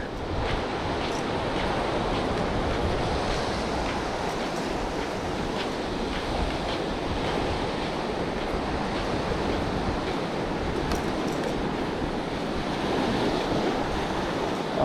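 Continuous rushing surf of waves breaking along a shore, steady and broad, with wind buffeting the microphone throughout and no voices.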